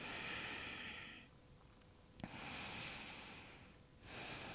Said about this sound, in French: On va prendre quelques respirations ici